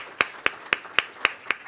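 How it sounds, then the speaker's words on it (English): Six evenly spaced claps, about four per second, ring out crisp and moderately close, acknowledging Professor Renée Cummings after a talk on ethical and responsible AI. "So let's give another round of applause, please, to Professor Renée Cummings"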